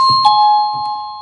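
A self-powered wireless doorbell chimes once, a clear ding-dong with a bright sustained tone that rings on and slowly fades, close and loud, with a faint click when it is pressed.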